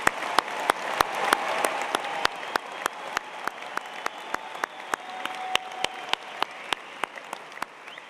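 Commencement audience at Penn State College of Engineering applauding, a steady patter of hand claps with several sharp, close claps standing out in a regular rhythm over a broader background of clapping.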